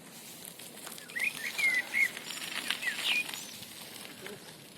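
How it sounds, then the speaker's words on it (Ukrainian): A small bird sings in spring from a spruce tree, giving short thin chirps and whistled notes at moderate distance over soft outdoor ambience, with brief fluttering sounds. "І так співає птах."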